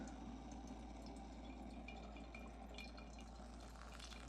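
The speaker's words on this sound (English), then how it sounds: "Pour some hot water and leave it for a minute." Hot water poured over coffee grounds gives a faint, steady trickle and low splashing with soft drips, quiet and close, under a constant low hum.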